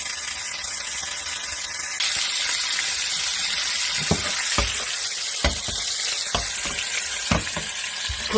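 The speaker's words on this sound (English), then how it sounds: "Put some olive oil in a pan and put in the stuffed tomatoes." Stuffed tomatoes fry in olive oil in a pan, giving a steady, loud sizzle throughout, broken by a few sharp knocks and clinks of the pan or utensil.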